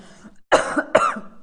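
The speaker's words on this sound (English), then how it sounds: "I've been coughing since ages." Two short, harsh coughs, close and fairly loud, a brief pause between them, with a soft breath beforehand during a quiet moment in a lecture.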